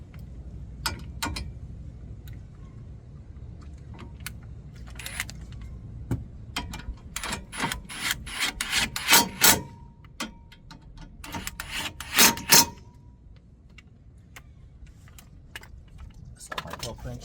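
Wheel bolts on a Mercedes-Benz GLA being tightened with a torque wrench during a front brake pad and rotor change, heard as bursts of metallic clicking and ratcheting with scraping, fairly close, over a low background rumble.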